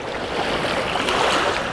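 Mediterranean sea water washing against rocks, a continuous broad rush of water and wind noise, loud and close, with no talk.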